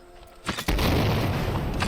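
A spell discharge explosion in the video game Spellsiphon bursts out as a sudden booming blast after a brief lead-in, followed by a sustained rumbling wash, with no talk.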